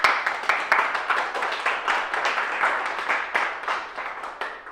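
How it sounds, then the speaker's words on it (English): An audience at a workplace awards talk breaks into a round of applause, dense overlapping claps swelling and fading in waves for several seconds, loud and fairly close. "give them a round of applause as well"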